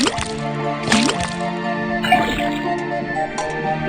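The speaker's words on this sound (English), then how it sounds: "put the sample of liquid into the cauldron, then tap the faucet" Liquid from a faucet pouring into a cauldron in the Detective Grimoire video game, a few wet drips and bubbly gurgles over a bright sustained tone, clear and close with no one talking.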